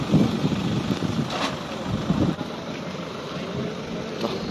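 Boat motor straining under a heavy load of tahong and planks at Navotas fishport pier, a steady broadband engine drone mixed with wind noise and splashing, fairly loud and continuous.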